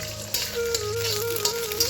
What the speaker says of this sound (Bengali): দিয়ে ভালো করে ভেজে নিই।